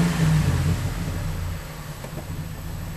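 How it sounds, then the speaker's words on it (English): A car engine idles and gets a brief blip of throttle during a PLX DM-200 OBDII gauge test, producing a steady low rumble close by that eases back down. "Let me give it a little fuel so you know that it's operating."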